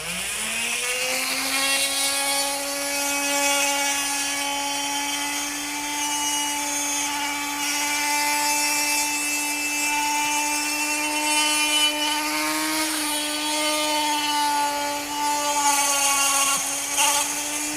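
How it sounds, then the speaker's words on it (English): Dremel rotary tool grinding out a broken exhaust bolt on a 1976 Honda Elsinore MR175 motorcycle, a steady high whine held for the whole stretch with a slight dip in pitch near the end, close and alone. "go straight to the Dremel. Probably put it kind of slow first."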